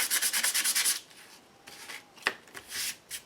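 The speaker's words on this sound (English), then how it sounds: "So in comes the sandpaper." Sandpaper rubbed briskly against a craft project to distress it, a run of fast rhythmic scratchy strokes up close, then a pause and a few slower, separate rubs.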